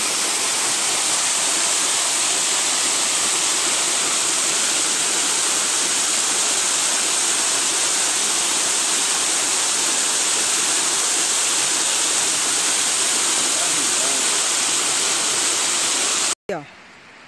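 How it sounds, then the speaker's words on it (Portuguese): A forest waterfall roars as a loud, steady rushing wash that fills the scene almost unbroken, then cuts off abruptly near the end. "acho que dá para ouvir, só ouvir pelo menos, som da cachoeira"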